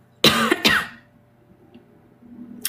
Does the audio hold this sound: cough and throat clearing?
yes